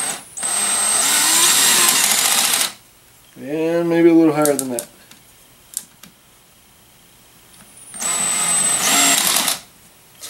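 A cordless drill driving a tap into a bench vise during repair, clutch set low, whirs loudly in two sustained bursts of about three seconds each, separated by someone speaking briefly and a few small clicks.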